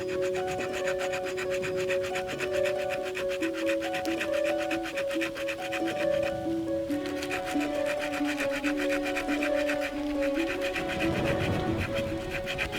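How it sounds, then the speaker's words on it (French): Rapid rasping strokes of the small saw blade on a multi-tool pliers biting through wood, steady and close, over a steady melodic tone. "on va essayer de le couper en deux avec la scie qu'il y a sur la pince"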